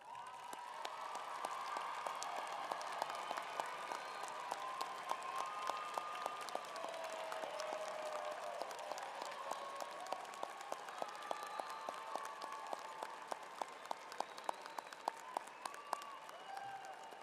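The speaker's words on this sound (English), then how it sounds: "So would the families of today's graduates please stand for a round of applause?" A large commencement audience at Idaho State University gives the families of graduates a sustained round of applause, with the clapping swelling and holding steady over a murmur of voices and scattered cheers in a big hall.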